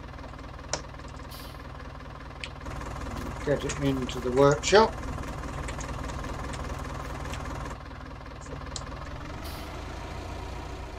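An old tractor engine idles with a steady low chug on a farm, and someone speaks briefly over the running motor.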